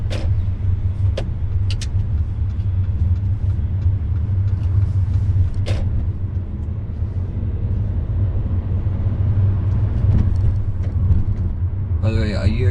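Steady low rumble of a car driving through town during a UK driving lesson, engine and road noise continuous and close, with a few faint clicks and small bumps throughout.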